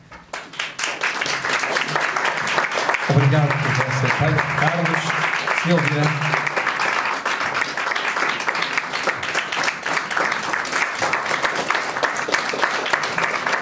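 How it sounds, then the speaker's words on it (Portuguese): An audience at a piano and violin recital claps for the teachers in sustained, full applause that continues throughout, while a voice speaks briefly over it near the start. "eu chamo aqui a eles ao palco por uma salva de palmas"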